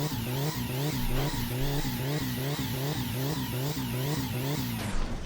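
Car engine revving hard in the video game My Summer Car, a loud buzzing drone that rises and falls in a steady wavering rhythm for about five seconds, then suddenly cuts off.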